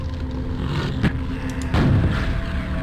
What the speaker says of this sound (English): It seems like it takes 3 shots with this rocket launcher